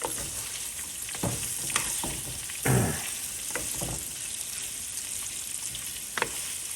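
Cabbage and bok choy fry in a pan with sausage and bacon, giving a steady sizzle broken by several sharp scrapes and stirring clatters, close and fairly loud, with no talk.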